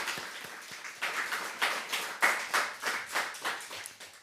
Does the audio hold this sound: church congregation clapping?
yes